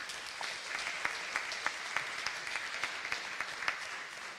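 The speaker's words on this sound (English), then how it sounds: "So give yourself a round of applause for that." An audience at a convention applauds, a steady wash of clapping with a few sharper individual claps standing out, moderately distant and without talk.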